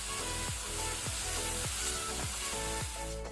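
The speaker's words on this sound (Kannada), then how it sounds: "ಈರುಳ್ಳಿ ಸ್ವಲ್ಪ ಫ್ರೈ ಮಾಡ್ಕೊಳ್ಳೋಣ" Onions frying in a pan with salt, a steady sizzle with regular stirring scrapes about every half second, close and continuous with no talking.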